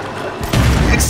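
Shotgun blast in the video game Little Nightmares 2: a loud, sudden boom hits about midway and leaves a sustained, heavy rumble filling the rest of the short clip.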